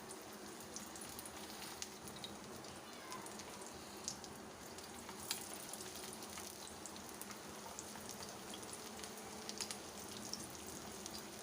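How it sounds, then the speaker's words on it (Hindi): Kebabs of raw minced meat frying on a small griddle give off a soft, steady crackling sizzle with scattered tiny pops, quiet and continuous throughout, with no voices. "हम इनको इसके अंदर डाल के फ्राई कर लेंगे।"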